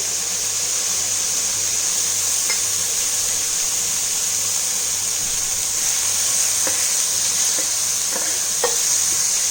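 Onions and curry leaves sautéing in a pan with turmeric powder and salt for a Mangalore-style prawn ghee roast: a steady, close hiss of frying with a few soft clicks of stirring, no voices.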